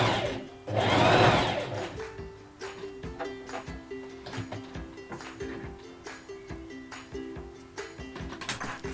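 Sewing machine stitching a garment from an Anna Allen pattern, with a steady close mechanical whir and rapid rhythmic ticking throughout and a louder whooshing swell near the start.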